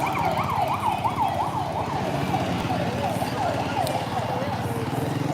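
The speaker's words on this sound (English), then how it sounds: "God bless those for who the siren blows" An emergency vehicle siren wails in a repeating rising-and-falling cycle, fairly close and loud, over steady traffic rumble on a bar street in Barretto, Subic/Olongapo.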